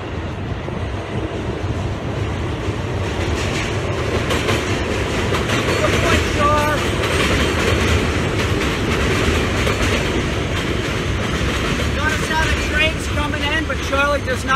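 Rail train rolling overhead while a dog is worked beneath it during stay training: a loud, continuous rumble with clickety-clack and brief wheel squeals throughout, a voice speaking over it.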